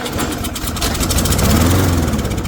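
An old junked lawn mower engine sputters and catches on starting fluid, producing a loud, rough, uneven running rumble that steadies briefly toward the end.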